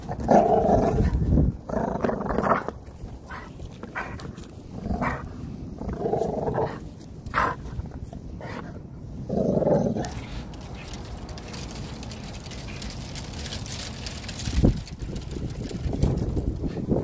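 An XL pitbull wearing a cone growls in low, rumbling bursts that come and go, close up, with quieter stretches between them and no talk.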